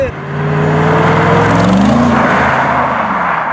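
A deep, loud Mercedes SLR supercar engine rumble holds steady throughout, with a rising note as the motor revs slightly, close and continuous.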